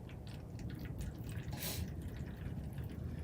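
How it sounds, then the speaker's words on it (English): Three-quarters of a cup of water pours into a bottle, a close, quiet, continuous gurgling trickle with small splashy drips and a brief brighter splash near the middle. "pour your 3/4 cup of water into your bottle"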